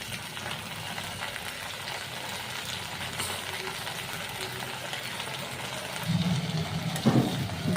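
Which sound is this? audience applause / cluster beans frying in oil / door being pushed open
cluster beans frying in oil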